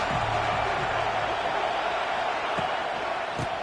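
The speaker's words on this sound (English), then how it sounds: "This crowd ready to make its presence known." A football stadium crowd roars in a dense, steady wall of cheering and noise that holds throughout, distant and broad, with faint voices mixed in.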